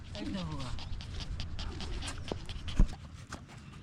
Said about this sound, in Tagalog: O yun pong namang aming alagang aso.